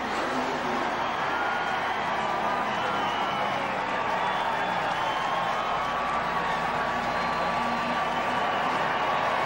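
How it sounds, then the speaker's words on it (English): A large NASCAR grandstand crowd at the 2001 Cracker Barrel 500 cheers and applauds after a winning car's celebration, a dense, sustained roar of clapping and shouting. "listen to the crowd. I mean, that's incredible."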